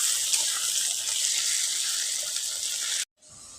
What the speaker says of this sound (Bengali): আলুটাকে আমি সেভাবে একইভাবে ভেজে নেব।